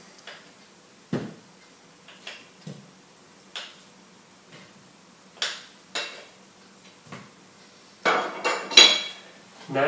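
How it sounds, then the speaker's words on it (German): Butter goes into a mixing bowl, heard as a series of sharp scattered clinks and knocks of utensils against the bowl, growing busier toward the end, with no talking. "Was ich zuerst mache, ist, dass ich den Anken in die Schüssel gebe."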